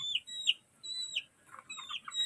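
A white Kelso hen on a Philippine backyard farm clucks softly in short close bursts, with faint high chirps from chicks mixed in and no talking.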